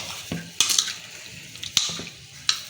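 A spoon stirs chili sauce into a fish mixture in a bowl, with a few sharp clinks of utensil against the dish amid soft wet mixing sounds, close and fairly quiet.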